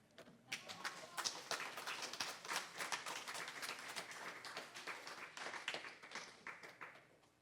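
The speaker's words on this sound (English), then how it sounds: "Can I have another round of applause for our readers?" An audience at a poetry reading applauds its readers with dense, sustained clapping that holds for several seconds and tapers slightly at the end, heard fairly faint and from a distance.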